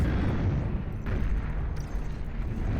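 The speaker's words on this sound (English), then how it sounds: "Massive self-destruct right there on that Fiend" Fiend unit self-destructing in Beyond All Reason, a heavy rumbling explosion with dense low booming that fills the whole moment, loud and sustained.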